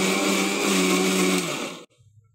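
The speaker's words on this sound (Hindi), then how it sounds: "और अदरक लहसुन को भी डाल के मैं है ना एकदम दरदरा पीस लेती हूँ" A kitchen mixer grinder coarsely grinding green chillies, ginger and garlic, a loud steady whirring whine that runs for nearly two seconds and then cuts off abruptly.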